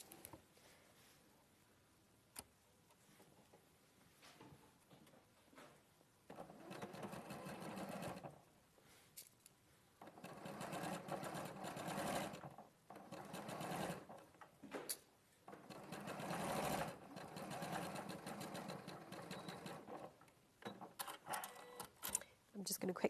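Stitching pleats on bias-cut fabric at a 1 centimetre seam allowance, a sewing machine hums in short, fairly quiet bursts, with a person talking between and over the runs.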